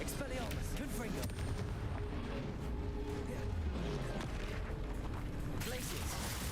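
Spell effects in the Hogwarts Legacy video game, with Confringo among them, give dense, continuous explosive booms and crackling blasts that overlap one another without pause, loud and busy across the whole stretch.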